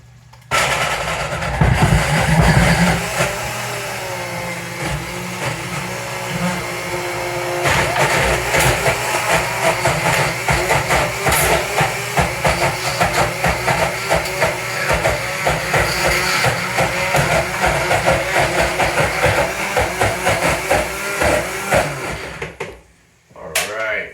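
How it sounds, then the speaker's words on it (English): A blender motor whirs steadily for most of the clip, a dense broadband roar with faint chatter in the background, cutting off near the end. "Adam, check out this awesome looking blender"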